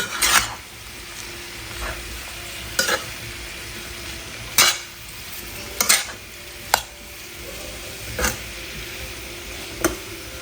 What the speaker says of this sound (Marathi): इथे आहे वरण आणि इथे आहे बटाट्याची भाजी आणि आता भरपूर कोथंबीर आता हे आपण चांगलं मिक्स करून घेऊ